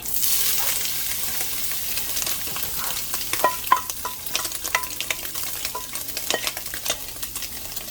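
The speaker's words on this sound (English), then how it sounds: "Alright, I have the blanched bacon. I'm going to put it in here." Blanched bacon sizzles and crackles in a hot pan, a steady close frying hiss dotted with sharp pops and spits, with occasional stirring clinks, no voices.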